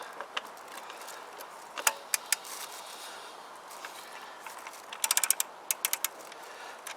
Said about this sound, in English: Torque wrench, already preset to 30 Newton meters.